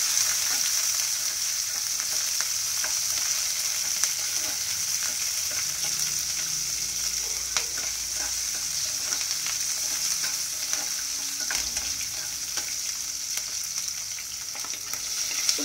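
Onions and vegetables for sambar fry in a pan with a steady, bright sizzling hiss, dotted with small crackles and occasional faint stirring sounds, continuous and close throughout. No one speaks.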